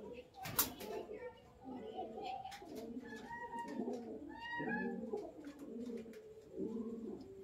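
Pigeons coo repeatedly in soft, throaty rolling phrases while a pigeon is given nasal vaccine drops, with sharp handling noises and clicks mixed in and low background chatter.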